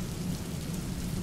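Rain falling, a steady dense hiss of drops with a low rumbling undertone, continuous and even throughout the brief stretch with no voices.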